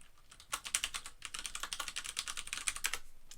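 A short, quick run of keystrokes on a computer keyboard, close and crisp, with the clicks coming in a fast, even patter.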